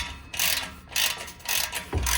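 A socket ratchet tightens the bolt on a 10-inch stainless steel exhaust tip on a truck: four close, loud bursts of rapid clicking separated by brief pauses.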